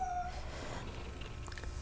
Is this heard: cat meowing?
yes